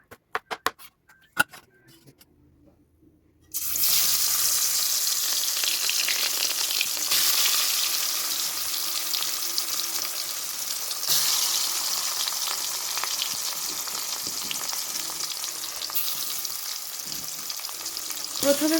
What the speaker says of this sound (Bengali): প্রথমে মাছগুলো লাল লাল করে ভেজে নিচ্ছি।